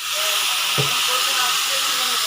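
Water poured into a hot pan while cooking pomfret fish bursts into a sustained steamy hiss, close and loud, with a soft thud early on and faint voices underneath.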